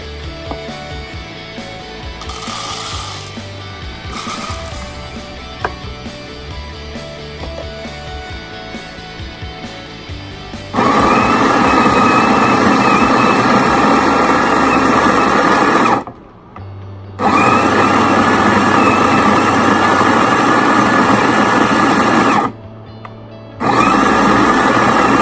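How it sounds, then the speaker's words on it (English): An electric grinder grinds coffee beans, a loud, steady whirring motor that runs for several seconds, cuts out briefly, then starts again, after a quieter stretch of low mechanical hum and small clicks. "We'll put our coffee beans. We can extend the time to grind it."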